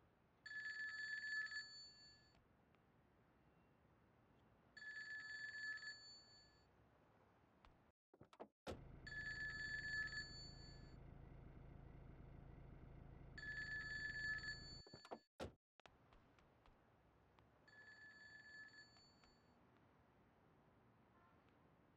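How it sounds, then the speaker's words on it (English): A ringing phone in GTA 2 repeats a bright electronic double-bell trill about five times at regular intervals, while a steady low hum and a couple of sharp clunks come and go underneath. "is this the Yakuza phone?"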